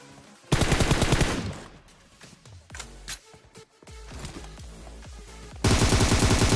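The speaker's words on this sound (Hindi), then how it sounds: "अब यहाँ पे गाइस मैं प्रोनिन शूट का उपयोग करता हूँ और भाई बंदे को खत्म कर देते हैं" Automatic gunfire in the PUBG battle royale game, fired while prone: loud sustained bursts open and close the stretch, with scattered shots and quieter in-game ambience between them, no talk.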